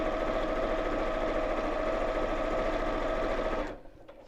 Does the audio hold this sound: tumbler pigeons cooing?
no